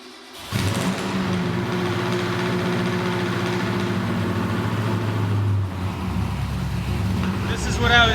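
A modified car engine with straight pipes fires up cold, cranking briefly before catching with a loud burst, then settling into a rough, choppy idle that holds steady and close, with a slight rise near the end.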